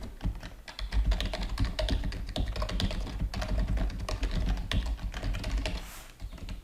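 Fast, continuous clicking of a computer keyboard as Python code is typed, close and fairly quiet, with irregular bursts of keystrokes and no voices.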